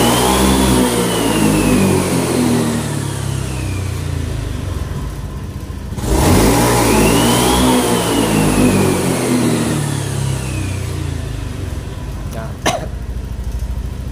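Honda Beat scooter engine revving hard after a throttle body cleaning, two loud rising-and-falling throttle blips a few seconds apart, close by, smooth without sputtering.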